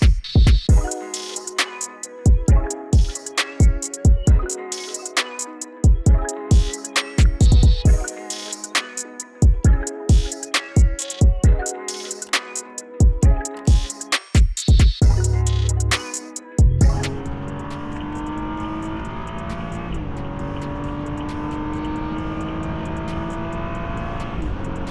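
A BMW 435i F32 heard from inside while driving: a long run of rhythmic clicking over a low hum, then a steady engine and road drone as the car moves off, with no voices.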